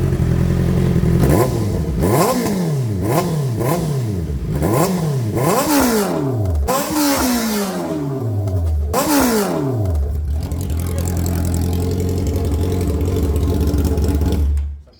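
A Honda CBR650R motorcycle with an IXIL Extreme Carbon full exhaust and silencer fitted revs loudly and close by. A string of about eight sharp throttle blips rises and falls before the engine settles into a steady idle.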